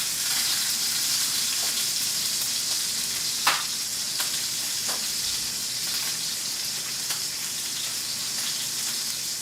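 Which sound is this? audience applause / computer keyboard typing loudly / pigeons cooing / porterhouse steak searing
porterhouse steak searing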